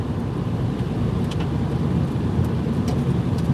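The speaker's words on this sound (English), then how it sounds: "Sounds like I'm driving after a fresh rain." Car tires roll over a wet highway on US-23/I-26 during Winter Storm Izzy, making a continuous close, loud swishing hiss of road spray with steady rumble underneath.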